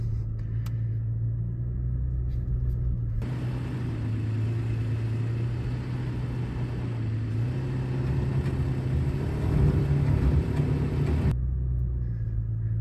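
A Toyota Tacoma creeps along in crawl control mode, giving a low, steady engine and drivetrain rumble with a faint mechanical whir, continuous and close from inside the cab.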